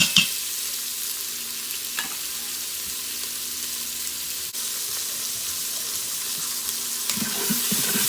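Onion and celery sear in an Instant Pot, giving a continuous close hiss and crackle of frying with occasional faint knocks, and no talking.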